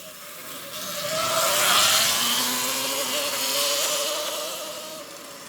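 E Ride Pro SS electric motorbike driving through an open area, a steady whining motor tone that rises and shifts in pitch over loud wind and tire rush, with no talking.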